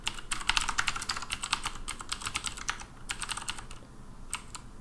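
Rapid bursts of computer keyboard keystrokes as a password is typed in, close and clear, with short pauses between runs of clicking and no talking.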